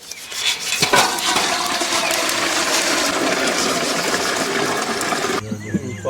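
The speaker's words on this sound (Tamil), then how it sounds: "ஊத்துப்பா, தண்ணி ஊத்துப்பா." Water is poured in a steady, rushing stream during outdoor preparation of country chicken for grilling on a cycle wheel, with faint clinks and mechanical rattles underneath.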